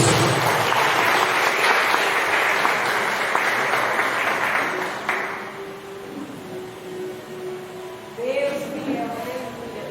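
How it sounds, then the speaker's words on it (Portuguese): A church congregation claps for Jesus during an evening worship service, a dense wash of applause for about five seconds that thins and fades, with a voice speaking over the tail end. "Você pode aplaudir ao Senhor Jesus?"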